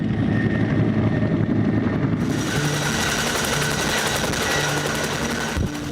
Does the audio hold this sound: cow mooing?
no